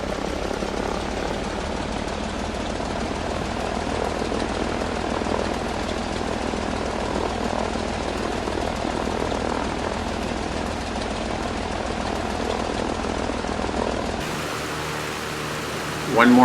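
A small Panthera aircraft taxis off the runway after landing, its propeller engine droning in a steady, continuous hum and whir inside the cabin until the sound changes near the end.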